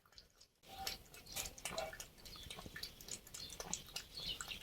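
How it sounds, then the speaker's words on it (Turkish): A hungry animal that has gone days without food laps milk from a dish, giving soft, rapid wet licks and small drips close by, faint and continuous after a brief quiet start. "Süt içiyor."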